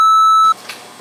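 Censor bleep, a loud pure electronic tone held for about half a second, then cut to quiet room noise.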